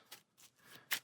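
Sleeved playing cards from the deck-building game Ascension Eternal being shuffled in short quiet riffles, three or four brief faint bursts at close range.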